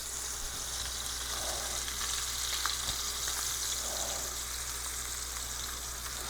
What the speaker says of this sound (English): Sear the side of it.